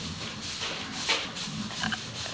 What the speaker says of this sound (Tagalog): Yan po inahin ni mama ah.